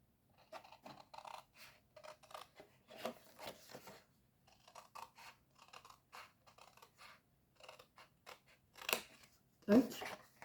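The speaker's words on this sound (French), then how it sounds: "Là, toute cette partie-là, on la coupe." Scissors cutting away part of a cardboard box template: a series of close, crisp snips and rustling cuts in irregular bursts, heard under and between a person's talk.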